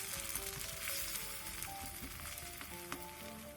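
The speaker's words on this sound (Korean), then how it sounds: "팬에 기름을 두른 뒤 계란물을 부어 골고루 펼쳐주세요" Beaten egg mixed with ham, garlic, salt and sugar sizzles steadily in an oiled frying pan, a soft, even crackle heard close up with no talking.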